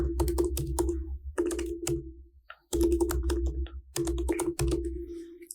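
Bursts of typing on a computer keyboard while a business name is entered during Google Ads account setup, with close, crisp key clicks in three quick runs separated by short pauses.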